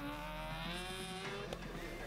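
An Osella PA21 race car with a motorcycle-derived BMW engine climbs a hillclimb course, its high-pitched engine note rising through the gears with brief shifts, heard from a moderate distance.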